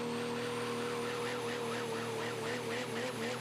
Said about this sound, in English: there's a slight whistle in that turbo right there